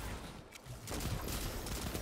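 Rapid gunfire from a crafted BXR pulse rifle in a video game shootout, a quiet but steady stream of quick shots that continues after a brief pause.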